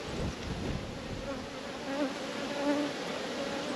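A dense, droning buzz of many honeybees hums close by at an opened hive frame of hatched brood, with a few individual bees whining past at slightly higher pitch.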